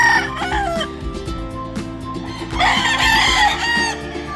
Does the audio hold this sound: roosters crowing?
yes